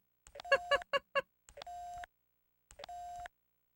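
Electronic phone tones in the video game The X Files: a quick run of short chirping beeps, then two steady tones, each lasting about half a second, clean and alone.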